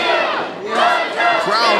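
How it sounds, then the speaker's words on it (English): A wrestling crowd at an indoor independent show chants and shouts in loud rhythmic bursts, a dense wall of voices rising and falling across the moment. "Crowd chanting for him."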